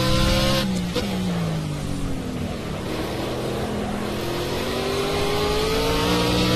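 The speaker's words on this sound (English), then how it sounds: "Traction control is having a hard time keeping the my Z4 under control" A BMW Z4 GT3 race car engine roars in Project CARS at Snetterton, loud and close, its pitch dipping then climbing steadily as it accelerates, with a sharp shift-like crackle early on.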